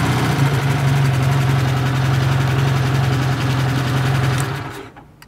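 A small two-cylinder vintage Edelweiss motorcycle engine runs steadily at a low, throbbing idle-like pitch, loud and close, then quickly fades away near the end.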